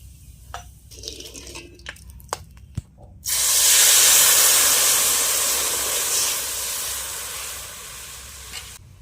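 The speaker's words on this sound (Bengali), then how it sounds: "বাকি মাছগুলো এভাবে আমি ভেজে নিই।" Hilsa fish pieces drop into hot oil in a Bengali kitchen: a few light clanks and taps first, then a sudden loud, close hiss of frying that slowly eases but keeps sizzling steadily to the end.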